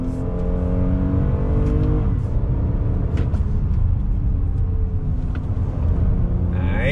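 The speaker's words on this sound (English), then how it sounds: "Downshift a couple times, third gear, second gear." A 2021 Toyota Highlander XSE AWD SUV accelerates hard after dropping to second gear, its engine rumble rising steadily and loud throughout with gear-whine tones climbing, heard from inside the cabin with no talk.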